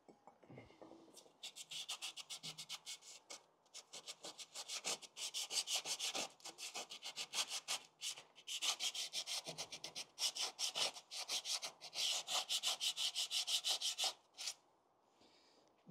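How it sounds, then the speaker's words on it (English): Sandpaper rubbed by hand over drum brake shoes in long rhythmic back-and-forth strokes, close and fairly steady, with brief pauses between runs. "Just going to give the shoes a quick clean, bit of sandpaper"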